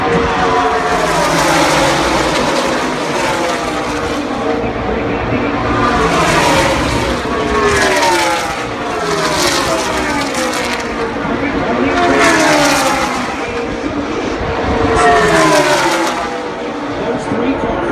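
Stock cars race at the Daytona 500, their engines roaring loud and continuous as packs pass in repeated swelling waves, with a commentator talking over the noise.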